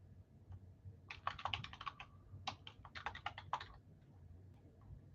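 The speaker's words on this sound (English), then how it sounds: "I was just typing out the names right here" Fast clattering keystrokes on a computer keyboard as names are typed, arriving in quick bursts with short pauses, close and fairly quiet over a low room hum, with no talk.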